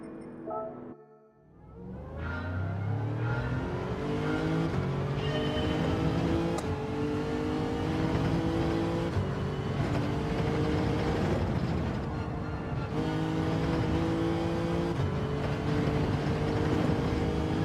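A BMW race car in Gran Turismo 7 pulls away and accelerates hard, its engine droning steadily and loudly through rising gears with brief shift dips.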